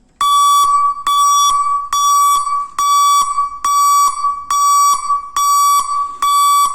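An electronic noise-maker alarm built to scare wild animals off farmland blares loudly in repeated shrill beeps, about eight evenly spaced pulses, close and alone.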